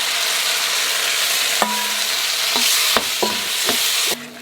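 Tomatoes stir-fry in a wok with oil, bean paste, chili sauce and hotpot base, giving a steady close sizzle broken by several sharp scraping clanks of the spatula against the metal.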